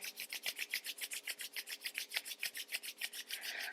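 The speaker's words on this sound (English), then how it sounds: "Close the eyes, take the hands back together, rub them together." Palms briskly rubbed together to build warmth during a yoga practice, a close, steady series of soft rhythmic swishes in quiet surroundings.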